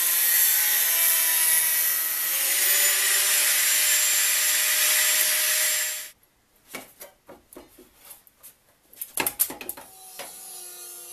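A loud, high grinding shriek of a tool cutting sheet metal runs for about six seconds, then cuts off, followed by scattered clanks and handling noises.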